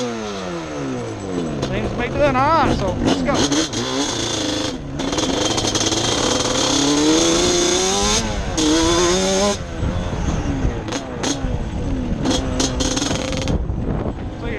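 A 100hp Yamaha Banshee engine idles and revs in sharp bursts, loud and close, with raspy two-stroke blats rising and falling, and someone talking between revs.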